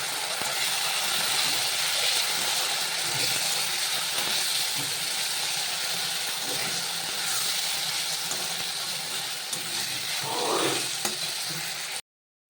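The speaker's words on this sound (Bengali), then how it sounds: "জিরে গুঁড়ো আর ধনে গুঁড়ো দিয়ে মশলাটা ভালো করে কষিয়ে নেব।" Spice paste with cumin and coriander powder sizzling and frying in oil in a pan while being stirred for a Bengali mutton curry, a steady close hiss throughout with occasional stirring scrapes.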